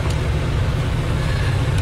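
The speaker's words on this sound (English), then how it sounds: "to listen to that V12 in the back is very special" Ferrari Enzo V12 engine mounted behind the cabin, heard from inside the car with minimal sound deadening; a dense, loud, steady low rumble fills the whole moment without pause.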